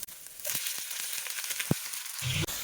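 Chicken frying in pure olive oil in a pan, a steady broadband sizzle running the whole time with brief pops and crackles, one sharp louder snap near the end.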